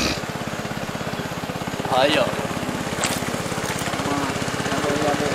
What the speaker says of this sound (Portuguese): E lá vem um barco a motor ali